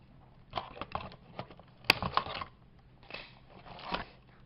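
Snipping through the last internal cord of an old radio being salvaged for parts, a few quiet crunchy snips and handling clicks up close, with one sharp cut standing out midway.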